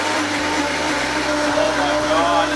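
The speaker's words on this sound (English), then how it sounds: "now we're ready to blend" A Vitamix blender runs at a steady, loud whir as it blends sprouted chickpeas, pumpkin seeds, cumin and garlic, the motor pitch shifting slightly as the thick mixture churns.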